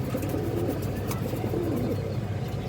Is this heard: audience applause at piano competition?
no